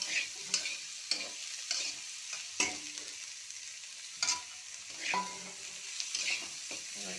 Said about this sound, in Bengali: এই যে মাংসটাও ঢেলে দিলাম